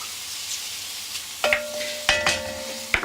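Meat searing in a hot pan with pepper and salt gives a steady close sizzle, broken by a few sharp clanks and scrapes of stirring.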